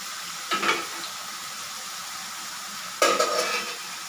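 Chilli chicken with bone frying in a pan, two brief bursts of stirring scrape and sizzle over a low steady background hiss, close by and without speech.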